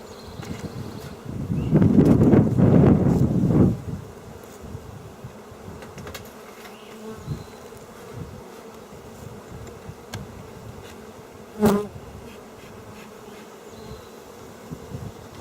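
Honey bees buzz around an open hive during an inspection, with a steady hum, a louder close swell of buzzing early on, and a brief sharp knock later.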